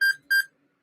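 A radiation counter's alarm gives two sharp, clear electronic beeps in quick succession, close and alone, then silence.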